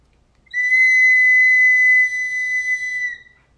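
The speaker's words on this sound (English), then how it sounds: "blowing my eagle whistle" An eagle whistle blown at a sun dance sounds one loud, shrill, sustained note lasting over two seconds, then fades out, alone with no voices.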